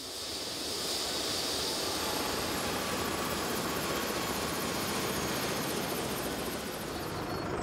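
Rescue helicopter Christoph 16 setting down in a meadow at the edge of a village, its rotor and turbine roar loud, close and steady throughout with no talking.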